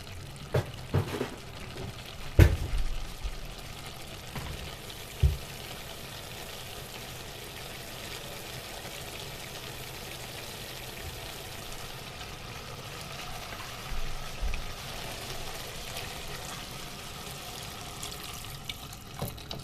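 Water pours and trickles steadily into a pan, with a few clinks and knocks of utensils early on; quiet, continuous, no talking.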